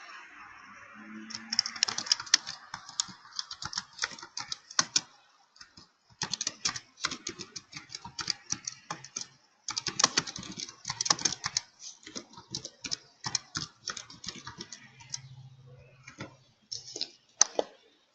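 Someone types a description on a computer keyboard, close by, in quick irregular bursts of key clicks broken by short pauses, with no talking.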